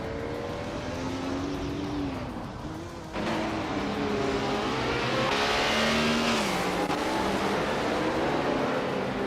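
A 1977 Porsche 936 race car roars in a racing video game, its engine holding a loud, steady high-revving drone with gear-change dips and pitch swells as other cars run close by.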